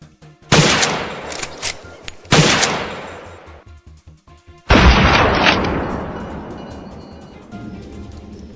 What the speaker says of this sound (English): A swift, cold-blooded opening shot kicks off today's challenging hunt.